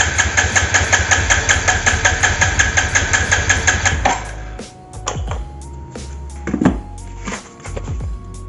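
Starter cranking a Yamaha Jupiter motorcycle engine during a compression test, a loud rapid pulsing chug for about four seconds, then it stops, followed by quieter clicks and a thin electronic beep.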